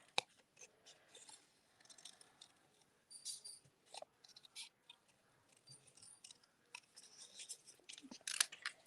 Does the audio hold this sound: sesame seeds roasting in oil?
no